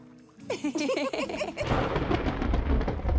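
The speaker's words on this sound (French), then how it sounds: "L'orage arrive." Thunder as a storm arrives in a Barbie cartoon: a voice speaks briefly, then a deep, loud rolling rumble breaks in and continues to the end.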